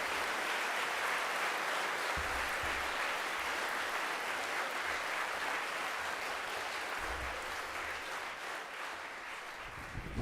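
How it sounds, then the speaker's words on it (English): Sustained audience applause filling a school chapel during a chapel service at Shawnigan Lake School, a dense steady clapping that holds for the full stretch at even loudness. "Let's get a round of applause for T."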